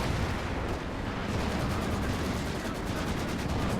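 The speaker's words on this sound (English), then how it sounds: "A lot of indirect fire coming down onto that." Indirect artillery fire pounds the battlefield in Company of Heroes 2, a dense, continuous roar of rumbling blasts and rattling shots, loud and unbroken throughout.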